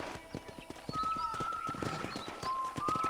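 Horse hooves clip-clop at a steady trot in the Red Dead Redemption video game, with a horse whinnying briefly, set against soft ambient bird calls and background game sound.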